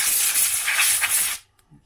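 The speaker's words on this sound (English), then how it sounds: "So let me use some spray here. Get rid of some of this dust." A spray can blows dust off a Sears Silvertone 6217 radio with one loud, steady hiss held close to the microphone for about a second and a half. The hiss then cuts off abruptly into near silence.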